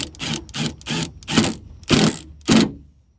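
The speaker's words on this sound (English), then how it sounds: "You screw this in place." A screw being driven into a door handle on a 2008-2013 Toyota Corolla, heard as about six rhythmic, close ratcheting bursts with short pauses between them and no talking.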